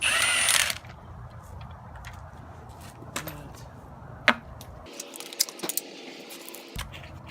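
A ratchet clicks in short bursts while backing out the 12 mm bolts on a Honda B18 transmission casing, sparse sharp metallic ticks and clanks close by in a quiet garage.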